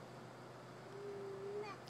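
Smokey, an outdoor pet cat, gives one thin, drawn-out meow that rises slightly at the end, faint against a quiet background.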